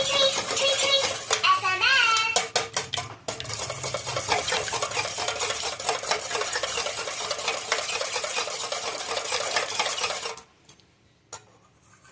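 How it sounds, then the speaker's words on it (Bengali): A salted egg mixture is stirred, a busy continuous scraping and clinking of utensil against vessel, close and fairly loud, dropping to near quiet with a few taps at the end. "এবার এটাকে একটু নাড়িয়ে চাড়িয়ে এটার সাথে মিক্স করে নিলাম"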